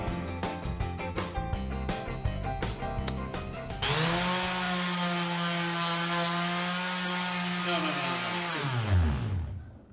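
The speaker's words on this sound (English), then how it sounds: "That's a random orbit sander" A random orbit sander used for woodworking, first heard through a run of rapid rhythmic bursts, then a steady, loud, close whirring drone that winds down at the end.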